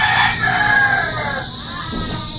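A rooster crows loudly and close by among chickens on a rural Philippine property, one drawn-out call trailing off, followed by a softer cluck near the end.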